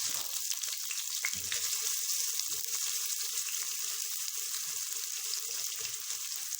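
Onions for keema sizzle and fry in a pan, giving a steady, fairly quiet hiss with small crackles and occasional stirring sounds.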